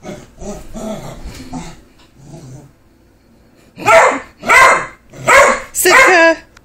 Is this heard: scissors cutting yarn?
no